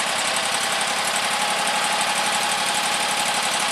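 A 25 hp Kawasaki motor running just after an oil change, a loud, steady close engine drone with a fine rapid knock and no voices.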